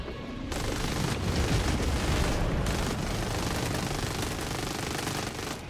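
Continuous roaring minigun fire in a video game, a dense unbroken burst of rapid shots lasting several seconds, loud and steady without pauses.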